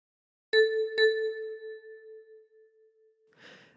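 A single key on a 10-key kalimba is thumb-plucked twice, two bright metallic tones about half a second apart, the second ringing out and slowly fading, alone, with a brief soft rustle at the end.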